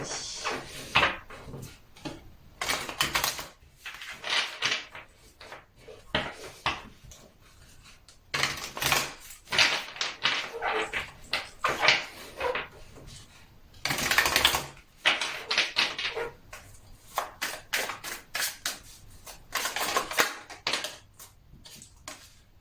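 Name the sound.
shuffling oracle cards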